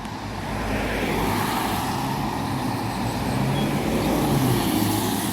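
Bus YT65 BYR on the C52 route passes nearby, a loud, steady roar of engine and tyres that swells slightly and holds for several seconds, with no talking.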